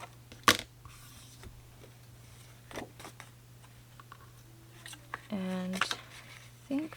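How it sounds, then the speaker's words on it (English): Scissors snipping through a piece of paper card during a floral diorama card craft, a few faint clicks and snips over a low steady hum, with a clearer run of cutting near the end. "I'm just going to cut this off"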